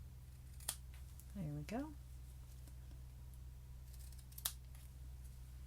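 Scissors snip ribbon on a handmade pop-out card, a couple of quick crisp cuts close to the microphone, while someone speaks briefly.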